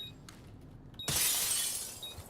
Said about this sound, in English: Glass breaks.